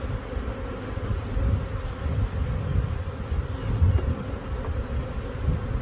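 Honeybees buzz steadily around a hive as it is split three ways, a dense continuous drone at moderate level with no talk.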